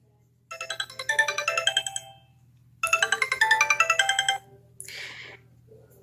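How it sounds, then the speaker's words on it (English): Ringtone on a pink Sony Ericsson Z750 mobile phone: two bursts of a bright, rhythmic electronic melody, followed by a short chime, heard clearly and alone. "Nice little ringtones"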